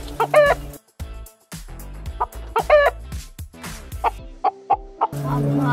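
A rooster crows twice nearby, loud and strained, between bursts of clucking from chickens, with short sharp calls trailing off before a low rumbling background takes over at the end.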